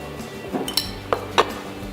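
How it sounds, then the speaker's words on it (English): Marinated olives being stirred into a pot of beef ragout, giving a few light clinks and scrapes of a utensil against the pan, with quiet pauses between the taps and no talking. "Give them a bit of a stir through."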